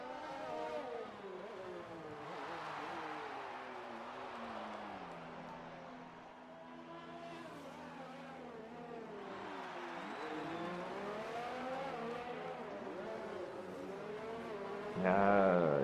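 Race cars in a racing video game set in Australia, with engines droning and revving continuously, pitch rising and falling through gear changes, and a louder burst near the end.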